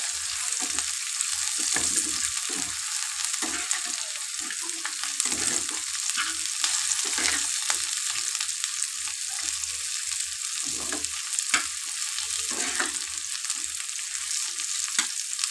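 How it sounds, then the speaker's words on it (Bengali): Continuous crackling sizzle of stuffed bitter gourd filling frying in a pan, with occasional scraping stirs, steady and close. "এবার এর মধ্যে এইটা ভাজা হোক"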